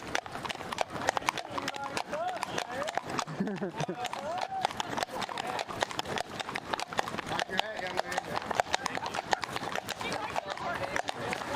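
Horse hooves clip-clop steadily through a cowboy ride procession, a dense run of close, repeated strikes with a brief whinny, while people chat nearby.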